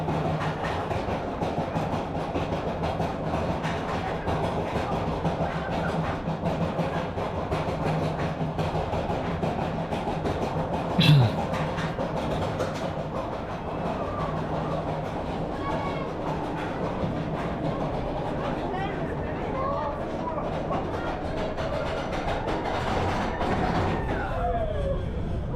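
A mine train roller coaster in Planet Coaster rolls steadily along its track with continuous rumbling and clatter, and one brief sharp accent partway through.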